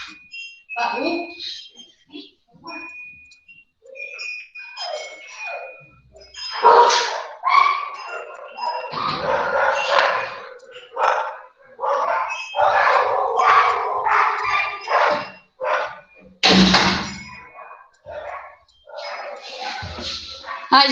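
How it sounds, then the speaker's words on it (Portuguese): Dogs shut indoors in a room bark in repeated sharp bursts, fairly close, with someone talking over and between the barks. "Os cachorros estavam aqui trancados comigo, agora eles começam a latir."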